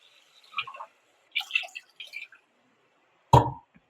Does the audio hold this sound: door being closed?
no